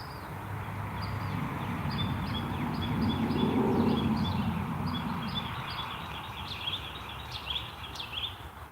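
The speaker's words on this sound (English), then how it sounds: "Oh, I do love hearing the bird song." Outdoors, a bird sings a series of short, repeated high chirps at moderate distance over a steady background hum that swells and fades.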